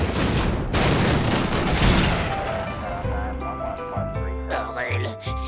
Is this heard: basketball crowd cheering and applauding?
no